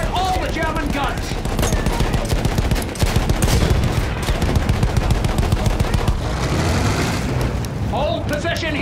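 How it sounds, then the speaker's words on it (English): Sustained machine gun fire in the World War I shooter Battlefield 1 rattles almost nonstop through a muddy trench battle, loud and dense, with booming blasts and shouted voices mixed into the chaos. "Those machine guns are holding our lads back."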